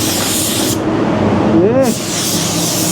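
Close, continuous hiss of a paint spray gun laying red automotive paint on car parts, cutting out briefly while someone speaks, then resuming.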